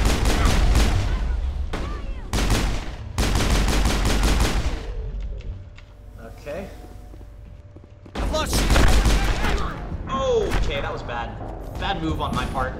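Gunfire in the sci-fi shooter game Mass Effect, a pistol among it: dense bursts of loud shots come in clusters with a quieter gap in the middle, mixed with other battle effects and voices.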